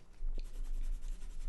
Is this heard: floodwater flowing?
no